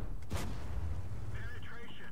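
A single sharp, heavy cannon shot from an M6 tank in World of Tanks bursts out early, followed by a low rumbling engine drone and faint higher tones.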